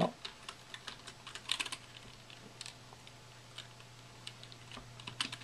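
Light clicking of a computer keyboard as a playlist title is typed, short irregular taps with brief pauses between bursts, fairly close and quiet.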